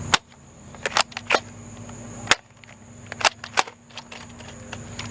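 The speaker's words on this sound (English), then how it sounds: "I'm going to fire off these Little Valentines and then switch to the AccuStrikes." A Nerf blaster fires Little Valentine darts, giving a series of sharp, close snapping pops at an uneven pace, about eight shots with short pauses between some of them.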